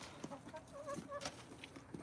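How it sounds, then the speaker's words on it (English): Chickens cluck nearby, several short, throaty calls overlapping in quick succession. "So we got chickens in there. We got chickens outside."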